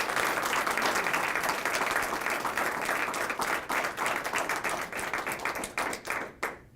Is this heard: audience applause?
yes